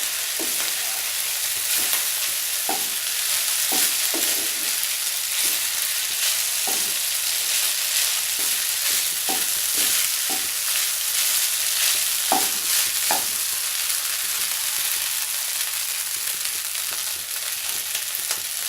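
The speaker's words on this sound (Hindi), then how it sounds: "अब हम राइस को अच्छी तरह से सब्जियों के साथ मिक्स कर लेंगे।" Cooked rice is stir-fried with vegetables in a hot pan, a continuous sizzle broken by frequent sharp scraping and tossing clicks from the utensil, close up and with no talking.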